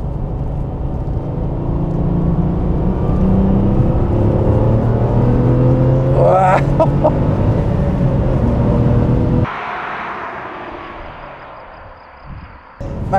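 A 1997 Porsche 993 Turbo S, the strongest air-cooled 911, drives fast with a loud, steady engine drone that climbs in pitch through a gear before easing off into a quieter cabin rumble.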